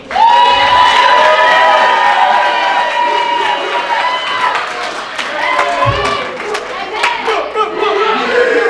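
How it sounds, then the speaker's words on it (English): Wedding guests applaud and cheer for the groom during the reception speeches, a lively crowd of clapping mixed with whoops and shouts, loud and sustained, with voices calling out over it. "let's give a real round of applause to Mike."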